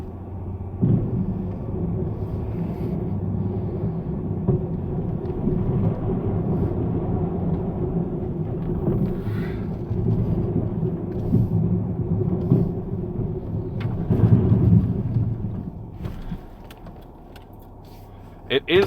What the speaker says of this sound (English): It is scraping up really good.